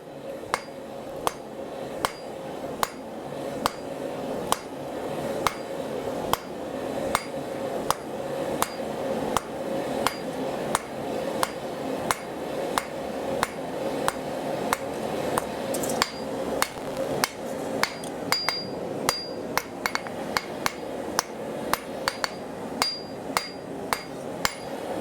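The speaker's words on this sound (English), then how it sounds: "There's nothing like putting yourself in a nice forging rhythm." A blacksmith's hammer strikes hot steel on an anvil while forging calipers, a long even rhythm of sharp ringing blows, roughly two per second, close and clear with no talk.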